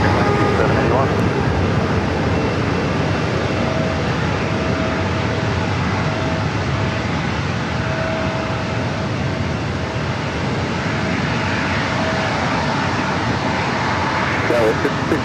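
A steady, broadband roar of a jet airliner taking off from runway 27 at San Diego airport fills the whole stretch, loud and constant with slight swells, no talk over it.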